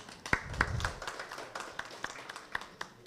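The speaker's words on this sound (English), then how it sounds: "can we just do a round of applause for those guys?" Scattered audience applause at a festival gathering, faint and sparse, with a few sharp individual claps standing out over a low murmur.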